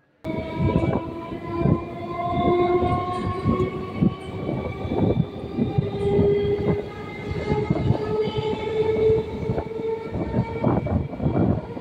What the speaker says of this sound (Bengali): ট্রেন এখন স্টেশন ছেড়ে বেরিয়ে যাচ্ছে